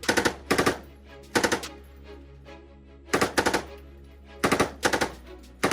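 A belt-fed machine gun on a sustained-fire tripod fires five short, loud bursts of rapid shots, each a few rounds long and separated by brief pauses of near silence.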